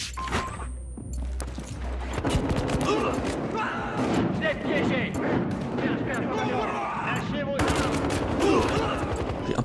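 An M16A3 rifle fires in Battlefield Hardline multiplayer, loud rapid bursts of gunfire with heavy thumps and dense rattling reports, a game sound effect and a brief beep opening the clip, and a voice speaks partway through.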